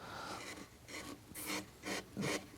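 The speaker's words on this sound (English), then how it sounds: "I'm putting that in with this V tool" A V tool carving wood makes short scratchy rasping strokes, about five quick cuts in a row, close and quiet with no talk.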